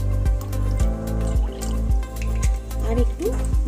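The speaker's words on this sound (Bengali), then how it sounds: "এবার এর মধ্যে খানিকটা জল দিয়ে দিলাম, জলের মধ্যে আমি খানিকটা ভিনিগার দিচ্ছি" Water and vinegar pour into a saucepan on a lit stove, a steady close liquid stream with small recurring splashy drips running throughout the few seconds.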